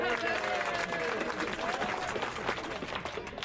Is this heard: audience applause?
yes